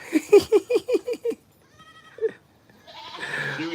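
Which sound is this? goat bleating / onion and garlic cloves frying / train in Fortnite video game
goat bleating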